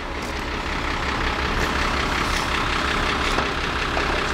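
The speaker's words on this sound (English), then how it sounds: "there's the Dwayne V truck over here." Heavy truck engine idling steadily close by on a snowy New York City street during a blizzard, a continuous low rumble with faint rattles and no talk.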